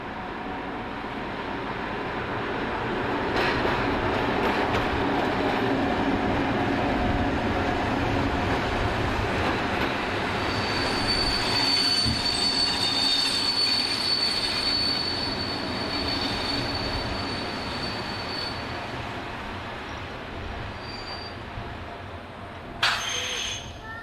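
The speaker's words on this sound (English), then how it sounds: "Class 750 diesel number 272 arrives from the north working the 1531 from Wrocki to Zvolen." A Class 750 diesel locomotive hauling a local passenger train rolls in with sustained metallic wheel squeal and rumbling carriages, the noise swelling then easing, ending with a sharp clank.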